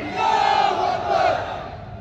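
A large crowd at a conference in Jaipur roars back in unison with a religious chant, one loud sustained swell of many voices that fades slightly at the end.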